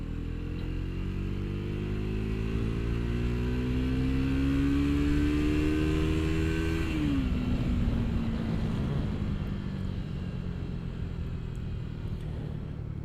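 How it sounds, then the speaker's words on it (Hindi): A Triumph Tracker 400 motorcycle revs under throttle, its engine note climbing steadily for several seconds, then dropping sharply and settling into a rougher, lower rumble, loud and close with constant wind noise. "यहाँ पे अपन थोड़ा सा थ्रॉटल दे के देखते हैं।"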